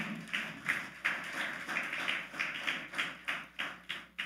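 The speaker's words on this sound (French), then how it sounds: "On applaudit plus fort toujours." An audience at a wedding ceremony claps in a steady, rhythmic unison beat, about three claps per second, sounding crisp and moderately distant with no talking.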